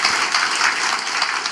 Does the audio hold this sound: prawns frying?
no